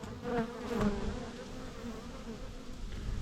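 A swarm of honey bees just shaken onto a hive frame drones steadily, a close, dense buzzing with brief swells as individual bees pass near.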